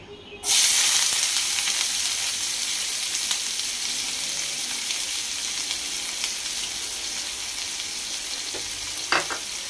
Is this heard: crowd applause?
no